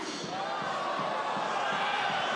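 Spectators in a rugby stadium at an under-20 France versus England match keep up a steady, distant roar of crowd noise, trying to sway the referee around a lineout throw.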